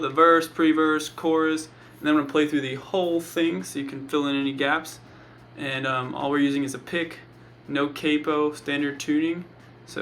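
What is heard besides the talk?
No everyday noises stand out.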